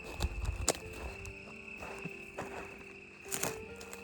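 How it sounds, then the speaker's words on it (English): Crickets chirp loudly at an old gold mine near Big Bear City, a steady high trill running throughout with a few footsteps and scuffs close by. "Oh, the crickets are loud."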